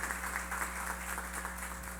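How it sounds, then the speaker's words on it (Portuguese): Applause for staff at a special session in a state legislative chamber, heard as a faint, steady patter of clapping from a room-wide audience over a low electrical hum. "vamos dar uma salva de palmas aos funcionários dessa casa"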